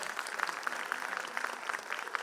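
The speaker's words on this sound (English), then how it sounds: "Huge round of applause for them." An audience at a school annual function claps steadily, a dense patter of many hands at moderate volume throughout.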